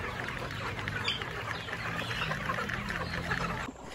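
A dense, busy chorus of poultry sounds from a farm of about 2,000 chickens, with overlapping clucks and calls, steady and fairly loud throughout, as from a crowded coop.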